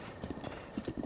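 A horse in the video game Zelda: Breath of the Wild clip-clops across the ground with a brief whinny, quick close hoofbeats in a short burst.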